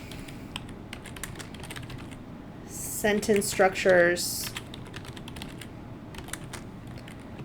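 Keys are tapped on a computer keyboard in a short, quick burst of clicks at mid-distance, while a lecturer keeps talking over a steady background hiss.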